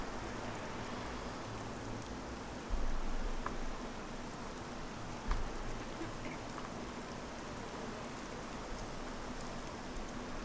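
Rain in Train Simulator 2017 on a Class 313 electric route from Drayton Park to Welwyn Garden City, a steady faint hiss of falling rain with a couple of soft thuds and no talk.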